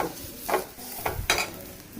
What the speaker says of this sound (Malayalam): നന്നായി ഇളക്കി വഴറ്റി എടുക്കണം കേട്ടോ